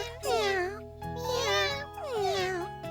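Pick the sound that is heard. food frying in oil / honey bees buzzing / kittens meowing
kittens meowing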